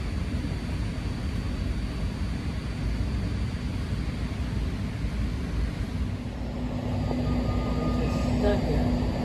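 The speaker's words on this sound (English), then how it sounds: "That train will be arriving momentarily platform 2." A rail transit train pulls into a station platform with a loud, continuous rumbling roar that swells slightly toward the end. No voices are heard.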